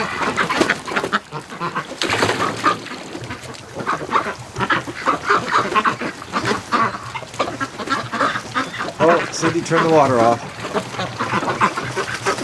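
Pekin breeding ducks quack loudly and almost constantly around a garden hose in -10°C cold, while someone talks over the flock.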